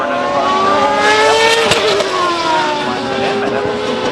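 A CART Indy race car screams past on the track at PIR, its loud high-pitched engine note climbing then dropping in pitch as it goes by, with the roar lingering in the distance afterward.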